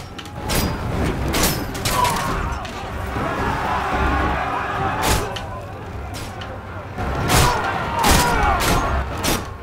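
Volleys of arrows or projectile fire in the Roman combat game Ryse, bursting in repeated sharp clusters over a constant battle din of clashing and crowd noise, with a voice talking over it.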